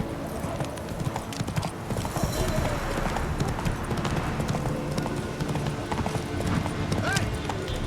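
Hooves of the horse Roach clip-clopping in a steady walking rhythm in The Witcher 3: Wild Hunt, continuous and close, with game sounds and a voice over it.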